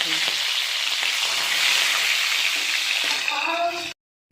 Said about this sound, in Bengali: এবার চিংড়া মাছগুলো কিন্তু একটু তেল হালকা করে নেড়ে নিচ্ছি